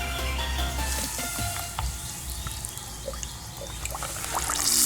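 Squid pieces frying in hot palm oil in a home kitchen in the Philippines, a steady bright sizzle with small pops and bubbling, fairly close and continuous.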